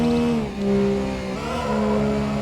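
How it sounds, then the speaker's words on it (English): A BMW Z3 in Need for Speed 4 High Stakes driving through a tunnel, a steady close engine drone with shifting pitch, echoing and fairly loud, with no talk. "I just wanted to be quiet then so we could hear it going through the tunnel."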